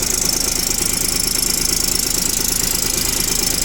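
A Kubota Aste A17 mini tractor engine runs steadily at idle, a close, even, rapid knocking chug that never changes for several seconds, with no voices.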